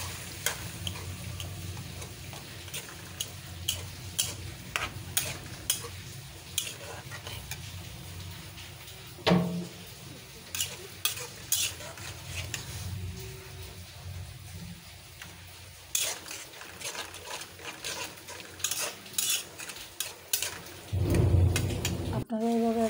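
Fish pieces go into hot spiced oil with ground coriander in a pan, giving a steady sizzle of frying under repeated scraping and stirring strokes, close by, with a voice speaking over it at times.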